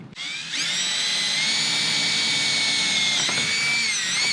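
A power drill bores through the sheet metal of a classic Ford Bronco for a roll cage install, a loud close steady high-pitched whine that runs unbroken after a brief start, dipping slightly in pitch late on.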